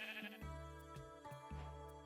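A sheep bleats in Minecraft as two sheep are bred on a farm, a few short, clear synthetic bleats repeating close up over a steady background tone, with no talking.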